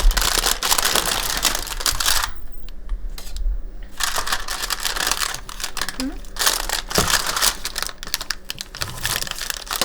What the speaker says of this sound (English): That's what I love about parchment paper.